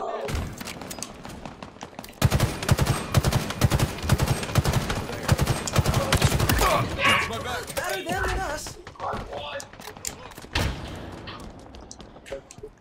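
Rapid automatic gunfire from the Halo Infinite video game rattles in dense, loud bursts for most of the clip, with the heaviest volley in the middle and voices talking over the shooting.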